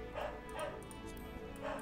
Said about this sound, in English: you may be able to hear a dog